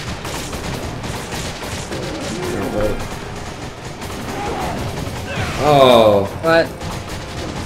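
Gunfire from Resident Evil 5 rattles in rapid clustered shots throughout a busy combat scene, with a louder burst near the end, while someone speaks briefly over it.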